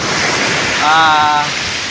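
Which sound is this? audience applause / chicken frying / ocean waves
ocean waves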